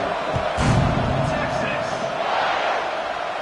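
Stadium crowd noise in College Football 26 before a kickoff with the game tied in the third quarter, a steady, broad roar that swells briefly near the start and carries on continuously through the moment.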